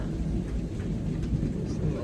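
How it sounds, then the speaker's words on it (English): A thunderstorm with hail in the morning, a dense steady rumble and clatter of falling ice and rain, loud and continuous, with no voices. "It's hail. Starting to hail"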